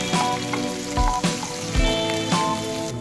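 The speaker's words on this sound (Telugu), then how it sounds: "బాండీలో 2 స్పూన్ల నూనె వేడయ్యాక కొద్దిగా ఆవాలు, జీలకర్ర, ఉల్లిపాయ ముక్కలు వేసి వేగనివ్వాలి" Mustard seeds, cumin and chopped onions frying in hot oil in a pan, a steady close sizzle with bright crackling pops and a few louder bursts as the pan is stirred.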